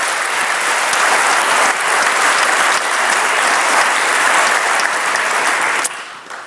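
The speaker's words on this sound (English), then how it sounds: "So just quick round of applause for everyone who ran Flutter Europe." Conference audience at a Flutter developer event breaks into loud, dense applause that holds steady for several seconds before dropping off sharply near the end.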